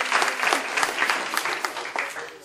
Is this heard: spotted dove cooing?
no